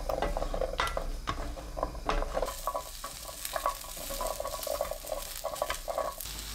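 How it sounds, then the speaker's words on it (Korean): Kabocha squash pieces stir-fried in a tablespoon of cooking oil over high heat, sizzling steadily while a utensil scrapes and taps the pan in an irregular rhythm, close and fairly quiet. "팬에 단호박, 식용유 1큰술 넣고 센 불로 2분 30초 볶아주세요."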